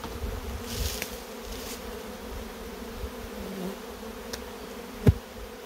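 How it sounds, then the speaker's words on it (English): Honey bees hum softly and steadily at a beehive as resting bees are tapped back into the colony, with a few faint knocks and one sharp tap near the end. "any bees that you've got resting, you can safely tap them into the colony"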